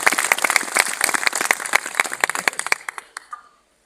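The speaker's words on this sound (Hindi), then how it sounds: "सभी ताली बजाकर उनका स्वागत करें" An audience at an Indian public meeting applauds to welcome someone, with dense, rhythmic clapping close by that thins out and stops within a few seconds.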